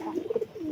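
Pigeons in a village loft give a short, soft burst of throaty cooing, a few quick pulsing notes close by against quiet background.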